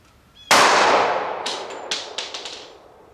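A single sharp, loud .40 caliber gunshot from a Federal HST 180-grain round fired into a ballistic gel block, followed by a decaying ring and several quieter metallic ticks and clinks.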